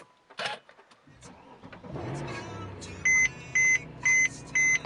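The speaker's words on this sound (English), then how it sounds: "Hear the engine." A 2013 Mercedes-Benz C63 AMG starting: a brief starter crank catches into a rising, rumbling idle, followed by four evenly spaced electronic chimes from the cabin over the running engine.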